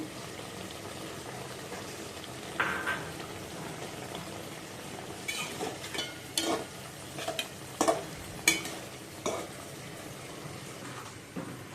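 Pointed gourd slices fry in a pan under a soft steady sizzle, with a few sharper stirring clinks and scrapes toward the end and no voices.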